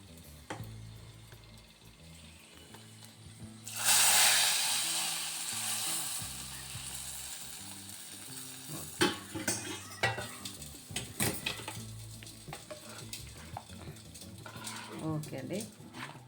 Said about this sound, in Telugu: పోపు ఇందులో వేసేసుకున్నామండి మనం